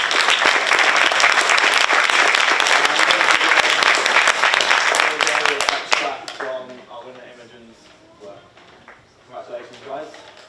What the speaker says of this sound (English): Got a big round of applause.